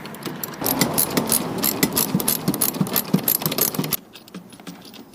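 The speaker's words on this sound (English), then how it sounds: "So we'll undo these couple of bolts," A ratchet undoes bolts on the wind deflector of a Mazda MX5, giving rapid, close, rhythmic clicking for about four seconds that then stops, leaving faint quiet handling noise.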